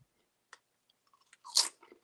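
Tiny kettle-cooked potato chips crunch in a close mouth, a few sharp isolated bites building to one loud crisp crunch, then softer chewing, with no talk.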